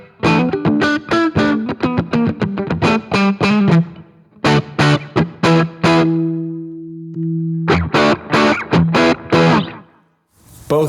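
Electric guitar played through a NUX Mighty 20 MKII amp on its Plexi preset, crunchy distorted chords and notes in choppy bursts with a held ringing note mid-phrase, a touch of reverb and delay, loud and close with no talking.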